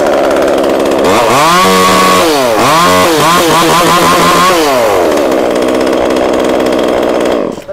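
A two-stroke Japanese chainsaw engine, Stihl, Husqvarna or Echo type, runs loud and close, revving up in several rising and falling bursts before settling to a steady idle and cutting off.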